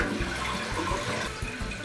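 Water rushes steadily through a newly installed toilet, a continuous close filling wash lasting the whole short moment without talk.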